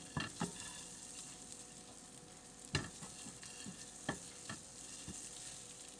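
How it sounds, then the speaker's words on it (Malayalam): Egg frying in a pan over a medium flame makes a soft, steady sizzle, with occasional sharp scrapes and taps of a spoon stirring it, close and quiet, no speech. "ഇവിടെ ഈ മുട്ട നമുക്ക് ഒരു മീഡിയം ഫ്ലെയിമിലിട്ട് ഒന്ന് ഫ്രൈ ചെയ്തെടുക്കാം"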